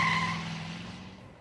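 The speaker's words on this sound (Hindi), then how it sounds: "स्कूटर भी लौट आया।" A scooter skids to a stop with a sharp tyre squeal that fades over about a second, heard close and alone.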